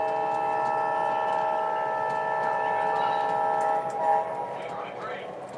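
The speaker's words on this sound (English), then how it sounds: "commenting on the horn of the GP7 here" An MTH GP7 Proto 2 Rail King model diesel locomotive sounds its multi-tone horn in one long, steady, fairly loud blast that fades near the end, with faint ticking in the background.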